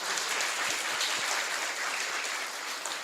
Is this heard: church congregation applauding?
yes